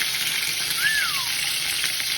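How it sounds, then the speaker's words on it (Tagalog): Chicken frying in hot cooking oil in a home kitchen, a steady, even sizzle and crackle holding throughout, alone with no talk over it. "magpiprito muna tayo ng ating chicken"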